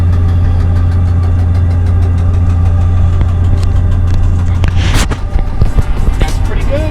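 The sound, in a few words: Kia Tasman engine while towing a heavy load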